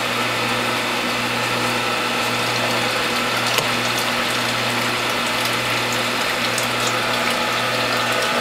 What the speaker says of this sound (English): Then we're going to press these spent cloths and extract as much juice as we can.